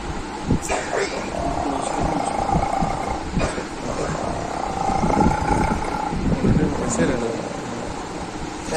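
A voice imitates a tiger's growls and rumbling snarls, loud and close, with rough breathy bursts over a noisy background.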